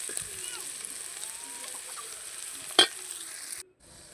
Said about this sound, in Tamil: தக்காளி போட்டுடலாங்க, வதங்கிடுச்சு.